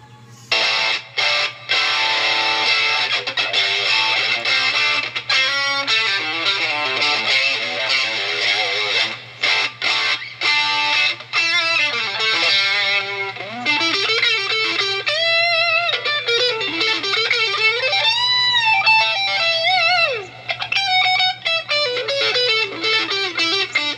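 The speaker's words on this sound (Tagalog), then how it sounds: "ito yung tunog kapag distortion" A Telecaster-style J-Craft T3 electric guitar played through distortion, with heavy crunchy chords, then sustained single-note lines and bends, continuous and loud over a low steady hum.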